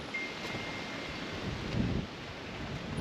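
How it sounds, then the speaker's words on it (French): Steady wind rushes and buffets against the microphone, a continuous rough roar with no voices. "Ah bah là il y a du vent"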